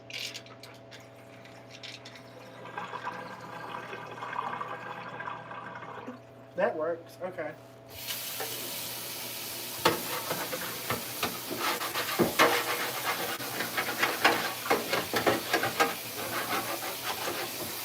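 Water runs and gurgles down a sink drain, washing away a roach, with hissing, bubbling noise and scattered drips, while a person speaks briefly over it.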